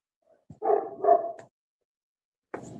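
An old resident dog at a rescue shelter barks close by, two drawn-out barks in quick succession followed after a pause by a short third bark, with no talk over it.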